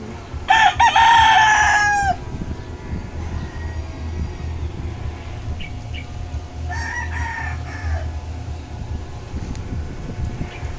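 A rooster crows loudly once up close in the mountains, then a second, fainter crow follows a few seconds later over steady low background rumble.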